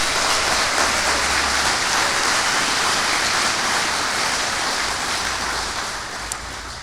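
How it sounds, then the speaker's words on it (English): A large crowd at an RV Hall of Fame induction ceremony claps in a dense, continuous wash of applause that holds steady for several seconds before gradually tapering off. "Let's have applause for that."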